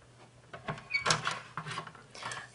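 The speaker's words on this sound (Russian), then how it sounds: "Чемоданчики плотно закрываются" Quality plastic Battleship game cases, 17 by 23 cm, being handled and snapped shut: a close series of quick plastic clicks and clatters over a couple of seconds.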